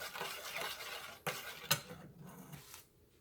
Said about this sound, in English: we're gonna keep stirring it